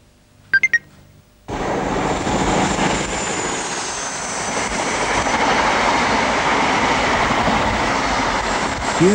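The 840 train to Peterborough rushes past after a few short clicks, a loud sudden roar that holds steady for several seconds with rumbling wheels and wind noise, close and with no talking.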